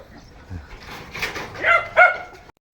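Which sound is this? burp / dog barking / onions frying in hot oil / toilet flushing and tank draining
dog barking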